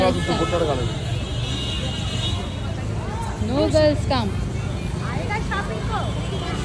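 Busy road in Nashik jammed with traffic, a constant rumble of engines and vehicle noise with a short horn toot, heard under several people talking close by.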